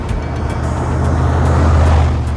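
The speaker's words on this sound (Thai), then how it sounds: "คันที่ 6 Ford F150 SVT Lightning รถกระบะคันเดียวในหนัง" A Ford F150 SVT Lightning pickup truck from the first Fast and Furious film runs with a steady, loud low engine rumble throughout the short stretch, with faint rhythmic ticks above it and no speech.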